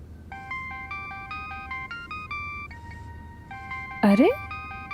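A melodic electronic phone ringtone plays in a repeating pattern of tones, with a brief louder chirp and a voice near the end.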